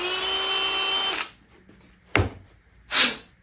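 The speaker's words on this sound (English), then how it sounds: "just drilled right through the face of it." A power drill whines steadily for over a second while boring through the face of a wooden door stud knob, then cuts off, followed by two short handling knocks and rustles nearby.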